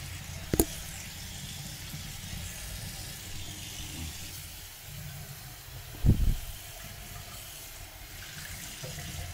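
Fresh cold water for cats running from a tap into a bowl, a soft steady hiss and trickle throughout with a couple of brief clunks, indoors and fairly quiet.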